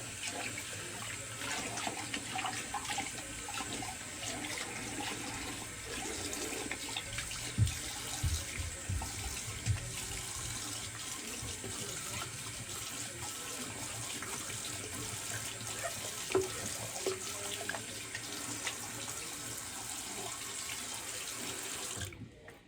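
Cold tap water runs steadily into a sink as someone rinses off after a wet shave, a continuous close splashing stream with small spikes where hands break the flow, no talking.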